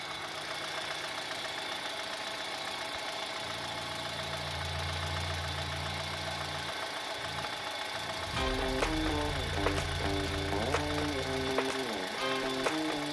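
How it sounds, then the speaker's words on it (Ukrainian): A Chery Tigo car engine cranks and catches, then settles into a steady low idle hum, with a second start later and the running engine continuing. "Ну і моторчик зараз заведемо, подивимось, як він працює."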